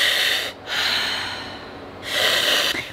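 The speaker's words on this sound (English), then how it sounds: "I'm setting it and forgetting it so I can do a little 5-minute breathing meditation" Slow, deep breaths during a short breathing meditation: a long inhale, a quiet pause, then another drawn breath, close to the microphone with no talk.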